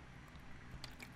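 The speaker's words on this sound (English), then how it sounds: "Quick sip of water." A quick sip of water taken close to the microphone gives a faint, soft wet slurp with a brief gulp near the end, alone over a low room hum.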